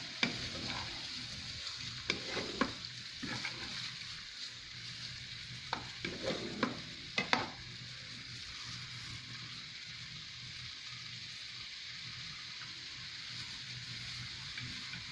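Chopped green chilli and garlic paste frying in a pan for chicken curry, an even steady sizzle throughout, with a cluster of stirring scrapes and clacks in the first half before the hiss continues alone.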